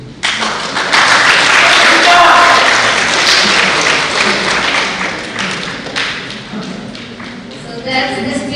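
Audience at a public speaking competition applauding after a speech, loud sustained clapping that gradually thins out, with some talk near the end.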